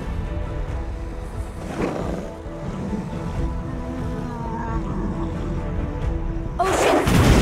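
Swelling ocean-wave whooshes from Nami's water ability in the Wild Rift game, layered over dense in-game battle noise, with a bright, loud splashing surge near the end.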